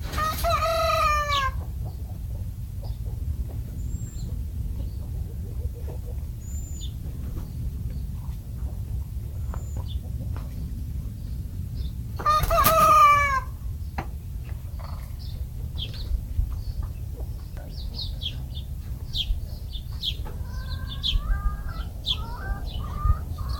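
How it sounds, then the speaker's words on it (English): Chickens cluck close by on a residential property in Elysian Park, Los Angeles, with a rooster crowing loudly near the start and again around the middle, over steady low background rumble and scattered distant bird calls. "You have to listen past the chickens, though,"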